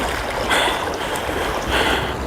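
Ocean surf washing over a large fish held at the waterline on a Southern California shore, two close rushing swells of foamy water with no talking.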